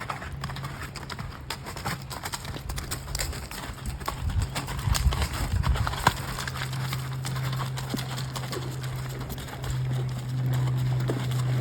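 Horses move along a trail near the water, with soft hoof thuds and rustling over a steady low outdoor hum and faint birds, fairly close, with no talk.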